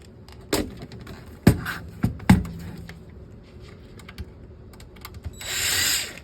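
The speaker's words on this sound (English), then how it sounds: "So you're going to want to remove these 4 screws." Small screws being removed from a Kia Hyundai car LCD circuit board with a screwdriver, a few sharp clicks and metallic ticks with quiet gaps between, ending in a brief soft hiss.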